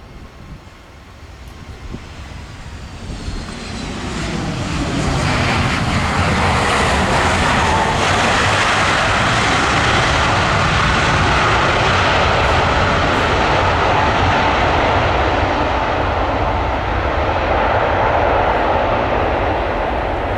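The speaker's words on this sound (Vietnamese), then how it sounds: "Chiếc máy bay Boeing 737 MAX 8 của Malaysia Airlines đã hạ cánh lúc 9 giờ 50 phút" A Malaysia Airlines Boeing 737 MAX 8 lands at Tan Son Nhat airport, its jet roar swelling within the first five seconds into a loud, sustained broadband rush that holds steady to the end.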